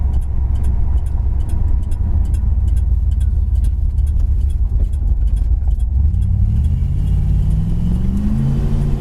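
A 1970 Plymouth Satellite show car rumbles loudly up close, its engine droning low and steady before revving and accelerating hard, pitch climbing through the final seconds.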